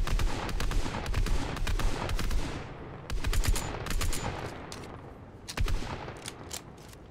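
Gunshots fired at a tree in a shooting game, loud rapid bursts of automatic fire, several volleys with short pauses between them, close and dominant with no talking.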